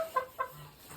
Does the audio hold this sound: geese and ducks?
yes